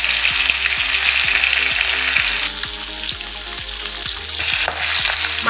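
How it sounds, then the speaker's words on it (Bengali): Fish, stinging catfish from a pond, frying in hot oil in a wok, a steady loud sizzle with rhythmic spatula taps and scrapes throughout, briefly dipping in intensity midway. "তেল গরম হয়ে গেছে, মাছগুলো দিয়ে দিব।"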